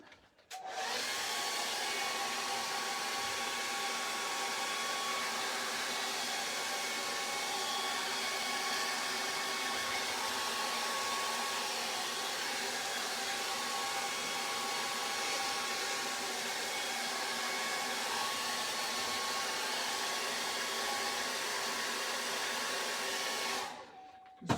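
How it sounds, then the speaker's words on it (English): A hair dryer blows on wet acrylic paint in one long, steady whir lasting over twenty seconds, switching on and off sharply at either end, loud and alone. "I've got my hair dryer."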